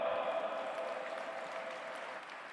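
Audience at the G20 Interfaith Summit applauding to welcome a speaker, soft distant clapping that fades slightly over a couple of seconds.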